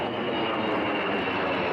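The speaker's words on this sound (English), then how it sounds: "As a jet will fly over top of us here." A jet aircraft passes overhead above an outdoor girls' U-18 field hockey championship in Virginia Beach, its steady broadband engine roar loud and continuous throughout, with no talk over it.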